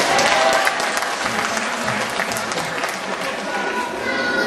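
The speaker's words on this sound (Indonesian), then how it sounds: "Kalau tepuk tangan semuanya dong" Audience applause during an Islamic sermon with doctors at a hospital in Tangerang, a lively sustained burst of many people clapping, loud and close, with some crowd murmur underneath.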